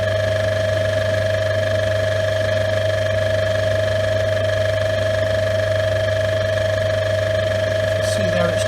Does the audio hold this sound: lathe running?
yes